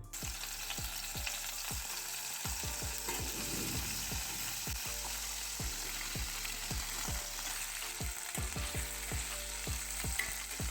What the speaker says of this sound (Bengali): আলুগুলোকে নেড়ে চেড়ে একটু ভালো করে ভেজে নেবো